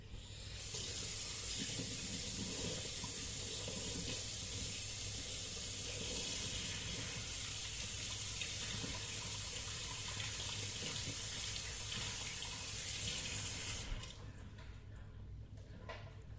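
Tap water runs steadily into a sink while a cleaned roach fish is rinsed, a close, continuous hiss and splash that cuts off abruptly near the end, leaving quieter room sound.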